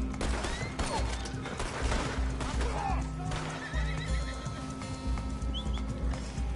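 A horse whinnies in a video game, the neigh mixed with hoof clops and faint bird chirps over a steady low background hum, with a voice speaking over it.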